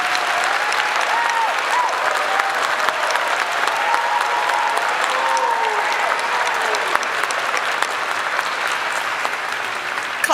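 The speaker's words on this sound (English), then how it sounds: "Let's give them a round of applause." Dense, continuous applause from a large audience at a university alumni convocation ceremony, steady and loud throughout with a few voices rising faintly over the clapping.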